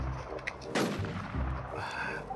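A pistol fires once in the WarZ video game on a sniper map: one sharp, close, loud report with a quick fade, over a steady background hum of game sound.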